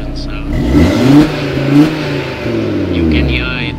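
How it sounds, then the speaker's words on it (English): A 2018 Audi TT RS running on its standard engine sound setting revs moderately with a smooth, rising and falling drone, close and fairly loud, while someone talks over it. "this is what it sounds like with the standard engine sound"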